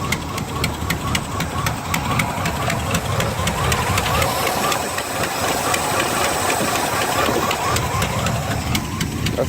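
A boxy Chevrolet Caprice engine idles after a cold start in below-freezing weather, a steady rough rumble with faint ticking and hiss running continuously and fairly loud throughout.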